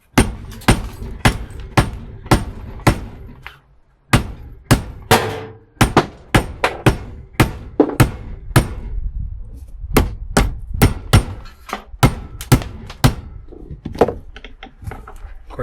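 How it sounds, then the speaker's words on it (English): A hammer whacks a metal cash register part again and again, sharp loud blows in irregular bursts with brief pauses between groups of strikes. "I'm just going to whack that off with the hammer."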